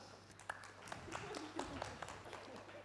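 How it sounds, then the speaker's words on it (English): Applause from an audience at a cultural diplomacy event, faint and distant, a steady patter of many hands with a few sharper claps standing out, over a low steady hum. "A big round of applause for her."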